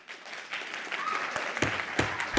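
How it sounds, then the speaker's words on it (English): Clapping breaks out at a city council meeting after a public comment, building quickly from quiet into scattered, moderately loud applause with a few sharp individual claps standing out near the end. "Please hold your applause."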